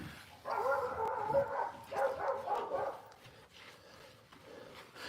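A dog barks and yips in short, excited bursts, fairly near and loud, with a few whimpering cries between the barks and no talk.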